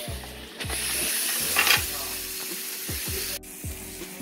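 Pork steaks sizzle steadily in a hot pan, a continuous close frying hiss broken by repeated rhythmic clicking or scraping sounds, with no voices.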